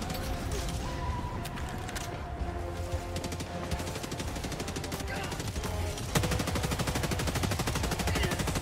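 Constant laser and rocket gunfire in the Helldivers 2 video game against bots, a dense unbroken wall of rapid shots and blasts at steady loudness with a heavier surge late on, voices faintly mixed in.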